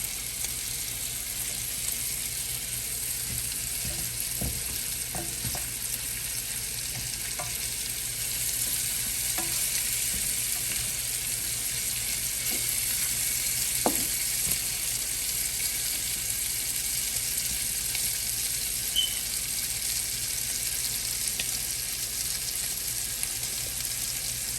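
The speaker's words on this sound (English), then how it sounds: "I'm just gonna saute the shrimp for about 2 minutes, a minute or so on each side." Shrimp sautéing in a pan for coconut curry shrimp pasta, a steady even sizzle of hot oil lasting throughout, with occasional soft clicks of the shrimp being moved.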